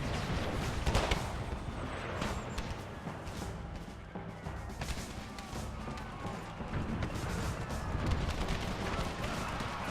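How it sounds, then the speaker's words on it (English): Civil War battle in a strategy video game, with dense musket volleys and booming artillery fire crackling continuously and loudly throughout. "They get some last volleys off, but that artillery is done for. They're firing point blank."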